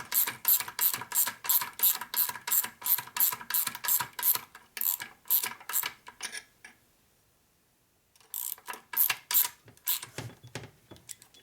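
A ratchet tightening bolts on a 1961 Harley-Davidson Sportster XLCH transmission during a rebuild, clicking in fast rhythmic bursts, pausing for about two seconds, then resuming, loud and close.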